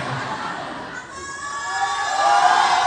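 Crowd at a church gathering shouting and cheering in response, a loud mass of voices that dips briefly and then swells louder toward the end.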